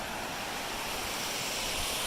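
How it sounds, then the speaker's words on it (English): A waterfall on a mountain hiking route rushes in a steady, loud, unbroken roar close by, with no voices. "I'm still at the waterfall spot"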